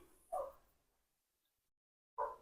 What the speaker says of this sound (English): Excuse the dogs. I live next door to a dog park.